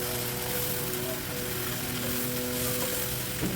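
Fried tofu (tokwa) sizzling in hot oil in a pan, a loud, dense, continuous crackle held close throughout with no talking.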